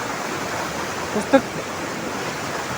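Steady broadband rush of a flowing village stream fills the scene, with a short voice and a faint clink briefly rising above the continuous water.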